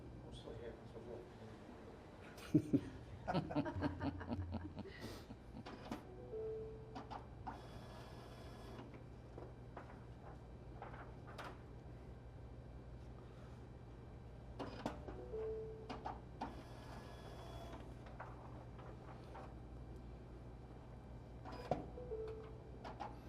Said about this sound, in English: the machine takes the ballot, it says processing